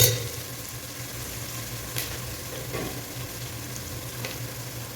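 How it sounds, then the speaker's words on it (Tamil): Sliced onions sautéing in a pan before the oil goes in, giving a steady soft sizzle with occasional stirring scrapes, close and continuous, with no talking. "ஆயில் போடுறதுக்கு முன்னாடி நீங்கள் வெங்காயம் கொஞ்சம் லைட்டாக வதக்கிக்கங்க"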